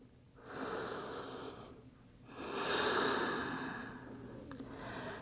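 Slow, deep breaths in a yoga child's pose: one long airy inhale followed by a fuller, louder exhale, close and audible with no talking.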